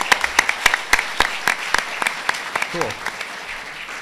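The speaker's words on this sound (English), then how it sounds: "let's give him a warm round of applause" An audience applauds to welcome a speaker at a VR expo talk, a thin stream of distinct claps from a modest crowd, loud and close, with a voice briefly speaking near the end.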